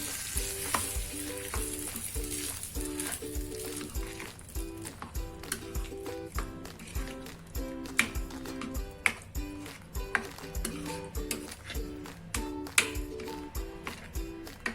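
A hot oil tempering with red chilli powder is stirred into semolina vegetable batter with a spoon, giving steady rhythmic scraping and tapping against the bowl over a faint sizzle, with no talk.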